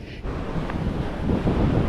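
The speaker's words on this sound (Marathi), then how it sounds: "हवा पण बरीच आहे, कंडिशन पण रफ आहे एकदम." Strong, gusty wind at an outdoor fishing pool in rough conditions buffets the microphone with a loud, continuous low roar that swells toward the end, with no voices.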